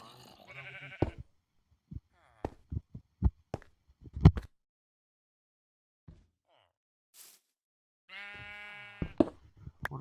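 Sheep on a video game sheep farm let out several nasal, wavering bleats at the start and end, separated by soft thumps and clicks and quiet gaps.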